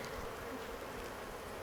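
Honey bees buzz steadily in an open beehive during an inspection, a dense, continuous drone that holds an even loudness throughout with no voices.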